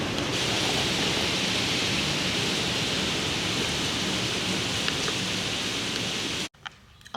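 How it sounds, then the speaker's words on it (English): Heavy rain pours outside a house, a dense, even roar of falling water that stays loud and constant for several seconds before cutting off abruptly near the end. "It's raining. Did you hear that? Yeah, it's pouring outside."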